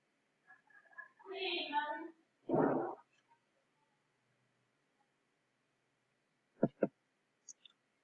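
Two quick sharp clicks of a computer mouse close together near the end, right-clicking on a source folder while setting up a Java project, following a moment of speech and near silence.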